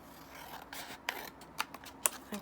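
Scissors snip through paper collage material in a quiet room, a few crisp, separate cuts spaced out at irregular intervals, close and fairly soft.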